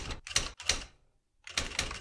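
An IBM WheelWriter 6 electronic typewriter strikes in quick, sharp bursts of clacking, with two clusters of keystrokes, a short silent pause, then another burst, close and loud.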